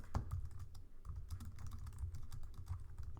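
Steady, quiet typing on a computer keyboard, with rapid close key clicks running throughout and no speech.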